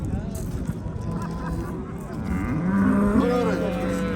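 A cow lets out a long, loud moo over a noisy outdoor background at a livestock market in Chust, Uzbekistan, rising in pitch near the end.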